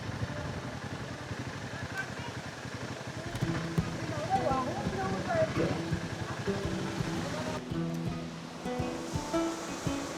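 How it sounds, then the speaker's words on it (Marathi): Fast water pouring through Barvi Dam makes a steady, loud rushing roar that fills the whole stretch, with voices talking over it partway through. "पाणी बघा काय फास्ट येतो."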